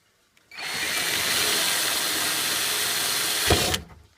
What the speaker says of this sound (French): vous allez percer ici donc cette partie ici avec un petit forêt